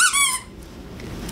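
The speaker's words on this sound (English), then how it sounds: "And then it's got a squeaker." A rubber squeaker inside a dog chew toy gives one long, high, loud squeak, then quiet handling sounds and a short final squeak, with no talking.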